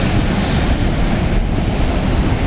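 Rough, dangerous sea surges onto a beach on Boa Vista, Cape Verde, a loud, unbroken roar of surf with wind buffeting the microphone.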